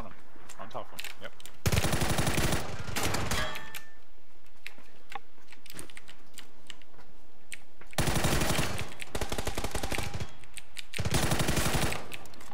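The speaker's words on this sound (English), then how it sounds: "Shot him through the fence hole." Automatic gunfire from a video game, fired through a hole in a fence, comes in loud sustained bursts separated by quieter stretches of ticking game sounds, close and dominant.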